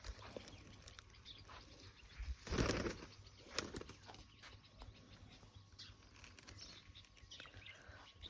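Pigeons with their wings taped flap in a short, fairly close burst of wingbeats, then a fainter flutter follows against quiet outdoor background.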